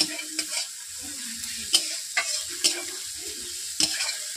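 Ginger-garlic paste and onions fry in a pan with a steady, close sizzle. A spoon stirs and scrapes against the pan in repeated sharp strokes over the hiss, with no talking.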